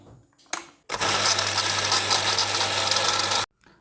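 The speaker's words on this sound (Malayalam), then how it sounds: "ഇനി മോട്ടോർ ഒന്ന് ഓൺ ചെയ്ത് നോക്കാം കേട്ടോ" After a couple of brief clicks, a borewell water pump motor switches on with a loud, steady droning hum for about two and a half seconds, then cuts off abruptly.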